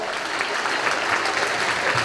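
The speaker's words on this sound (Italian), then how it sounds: "Project Junior, applauso!" Audience applause at a Christmas figure skating show in Montecchio Precalcino, Italy, a short steady burst of clapping from a crowd.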